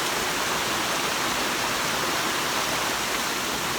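Heavy, steady rush of a creek swollen after a night and morning of rain, broadband water noise filling the whole stretch without pause, close and loud, no voices.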